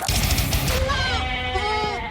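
A goat bleats on a farm, a loud, wavering cry that stretches through most of the moment against a busy, noisy background.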